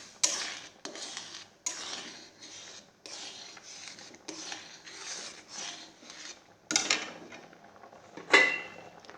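Metal scrapes and rubs against a kadai of rice in a string of short, uneven bursts, followed near the end by a sharper clatter as a plate goes on as a lid, close and fairly quiet.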